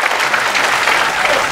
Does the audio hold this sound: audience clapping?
yes